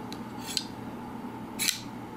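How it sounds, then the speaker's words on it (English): A Jake Hoback Kwaiback midtech knife blade opening produces a few brief, sharp metallic snicks. A faint one comes first, then a clearer one, then a louder bright snap near the end, all close against a quiet room hum. "To me, it sort of sounds like a sword coming out of its sheath. Kind of got that sort of like a metallic type sound."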